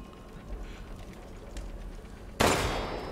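A single sharp gunshot in the video game Resident Evil Village, a sudden loud crack with a trailing ring after a stretch of quiet ambient game noise.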